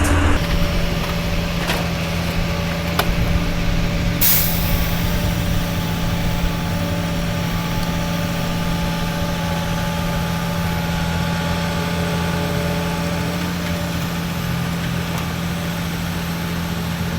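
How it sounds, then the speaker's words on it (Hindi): A truck-mounted crane at a building site hums with a steady, loud engine drone and low mechanical whine while lowering a load, running continuously without pause and with no talk over it. "क्रेन इधर से ऑपरेट करके इसको नीचे उतारता है।"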